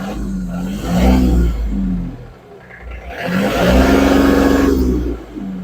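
A cold tractor engine revved up twice, the deep diesel rumble rising in pitch and loudness, easing off briefly in the middle, then climbing again, close and loud with no talking.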